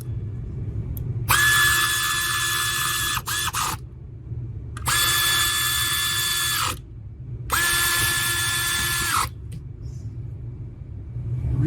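A power tool drives bolts on a Lexus RX350 during spark plug and ignition coil work, tightened to 7 foot-pounds. Three whirring bursts of a few seconds each sound over a steady low rumble, with short quiet gaps between them.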